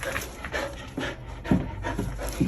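A dog pants close by in quick, uneven bursts of breath, with a few soft whimpers between them and no talking.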